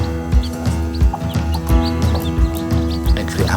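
Free-range village chickens kept at a house in Bogor cluck close by in short, repeated bursts at an uneven rhythm over a steady tonal hum.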